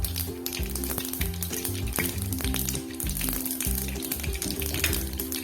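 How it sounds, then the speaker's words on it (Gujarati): Mustard seeds crackle and pop in very hot oil during tempering for dhokla, a steady close sizzle dotted with sharp pops over a sustained tonal musical background. "આપણી રાઈ કકડે છે, થઈ ગઈ છે આપણી રાઈ."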